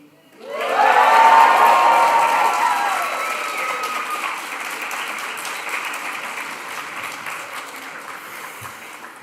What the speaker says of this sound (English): a huge cheer for the class of 2025